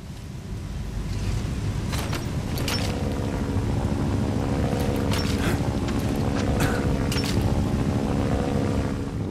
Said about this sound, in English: It looks like there's an enemy helicopter patrolling overhead.